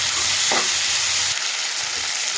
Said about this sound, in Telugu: బాగా ఫ్రై అయింది